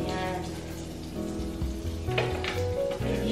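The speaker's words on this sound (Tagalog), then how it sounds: "Ihitin lang natin yung mantika. Mantika ang butter." Butter melts and sizzles steadily in a frying pan on the stove, a close, continuous frying hiss with soft crackles and no talking.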